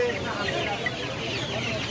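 Chickens clucking at a busy duck and chicken market, a dense steady chorus of clucks and calls close by, with voices faintly mixed in.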